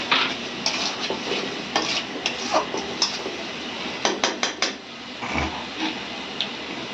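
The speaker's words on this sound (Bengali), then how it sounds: "হলুদের গুঁড়ো ভালো করে নেড়ে নিচ্ছি" Turmeric powder stirred into a hot pan gives a loud sizzle under repeated scraping and clinking strokes of a spoon against the metal, with a quick run of taps just past four seconds and no speech.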